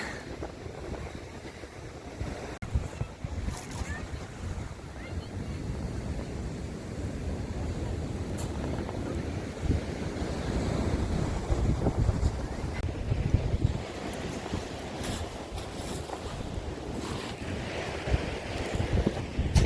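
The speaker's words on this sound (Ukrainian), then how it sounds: "Гарний вітер." Steady outdoor wind buffets and rushes across the microphone for the whole stretch, fairly loud and gusting slightly, with no one speaking, where many people are flying kites.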